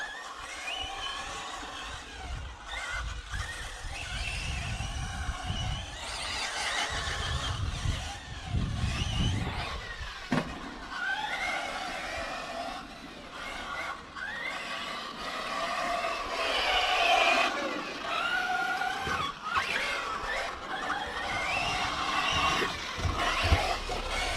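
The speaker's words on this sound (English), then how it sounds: "I was hitting the throttle a bit hard just to see" An RC off-road car races on a carpet track, its electric motor whining and revving up and down in repeated bursts under hard throttle, fairly close and continuous throughout.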